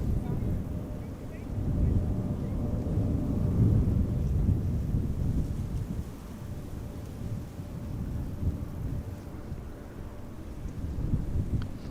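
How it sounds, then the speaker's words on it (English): A Boeing 777-300 jet arriving at Amsterdam Schiphol gives off a low, distant rumble that swells and fades over several seconds in hazy, crosswindy weather, with no other clear sounds over it. "Vague contours of a 777-300 that is arriving from Lima in Peru."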